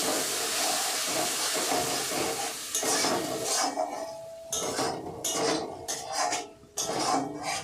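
Spice masala for chicken Maggi fries in a pan after a splash of water, giving a steady steamy hiss with repeated clinks and scrapes of a utensil stirring against the metal pan.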